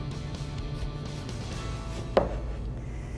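Knife cutting the end off an eggplant on a cutting board, a single sharp chop standing out over a low kitchen hum, with a few softer knocks before it.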